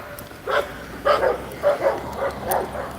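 A small dog yaps repeatedly outdoors near a fence, with about five short barks at a moderate distance over faint background noise.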